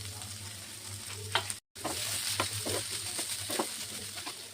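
Spring onions and white sesame seeds frying with pepper chicken in a pan, a soft steady sizzle with scraping stirs and light clatters, brief cut in the middle, quiet voice faintly in the background.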